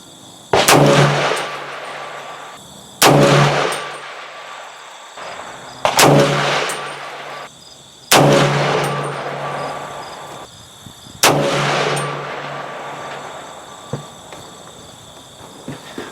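A rifle firing 300 Blackout hand loads, five loud close shots spaced about two to three seconds apart. Each crack rings out into a short echoing decay, with quiet between shots and no talk.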